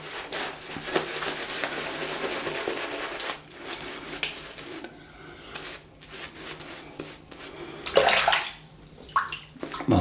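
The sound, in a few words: water running while lathering shaving soap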